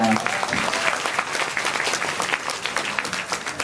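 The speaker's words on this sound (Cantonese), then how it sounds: "我哋俾掌聲佢哋啊嘛" Wedding guests applaud the newlyweds with steady, dense clapping filling the room at close range, a voice or two faintly mixed in beneath the applause.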